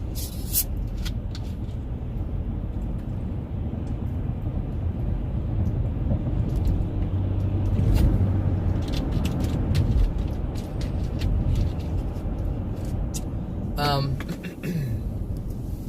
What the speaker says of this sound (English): There's so much traffic today.